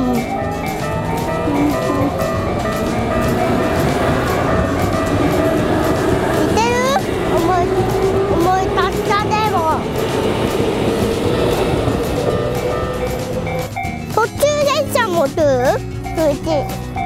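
A train rumbles past steadily and loudly at the long Kagetsuen-mae level crossing, with squealing wheels and a ringing crossing signal, while excited voices talk nearby.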